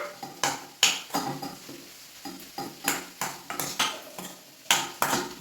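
Ivy gourd fry with garam masala stirred in a pan: a series of distinct spatula scrapes and clinks in an irregular rhythm, close and fairly quiet, with a faint sizzle between strokes.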